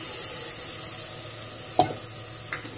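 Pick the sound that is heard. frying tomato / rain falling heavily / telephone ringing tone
frying tomato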